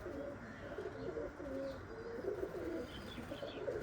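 Slate-grey pigeons cooing softly in a quiet loft, a repeated low, burbling call with faint chirps nearby and no clear talk over it.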